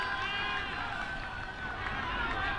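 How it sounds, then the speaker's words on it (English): Cricket crowd at a Nepal vs Hong Kong China T20 match erupting as a wicket falls, a sustained roar of cheering from a large crowd. "Listen to that crowd."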